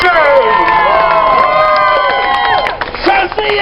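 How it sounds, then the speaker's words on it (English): A crowd at a McDonald's workers' strike rally cheers and whoops loudly and continuously, with shouting voices layered through the din. "Give a big round of applause"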